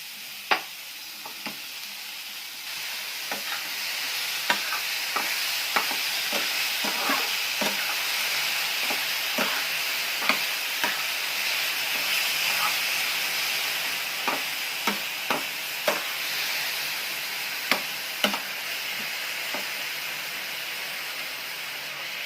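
Jaggery fries in a pan with a steady broadband sizzle, and a spatula stirs it in repeated sharp scrapes and taps throughout, at an uneven rhythm. It is close and moderately loud, with no voices.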